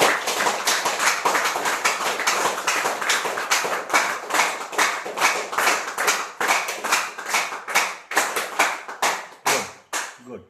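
An audience at a breathing and mind-control session claps together, a dense burst of hand claps that loosens into uneven separate claps and fades out by the end.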